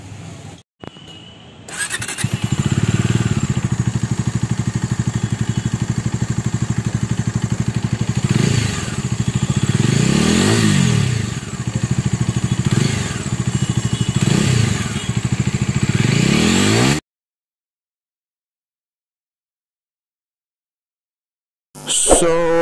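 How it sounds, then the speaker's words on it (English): A 2022 Bajaj Dominar 250 motorcycle runs steadily while being ridden, its engine loud and continuous with a few rises in revs, then cuts to silence near the end. "as you can see that I'm riding Dominar 250 2022 edition"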